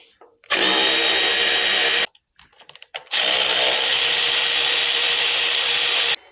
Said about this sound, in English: These also are a 9/16 stud, so we'll loosen these up.